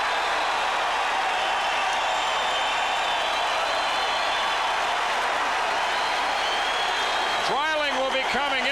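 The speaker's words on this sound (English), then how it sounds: "Listen to the crowd at Reunion." A basketball arena crowd at Reunion in Dallas roars and applauds during an NBA game between the Lakers and Mavericks, a sustained dense wash of cheering with a commentator's voice rising over it near the end.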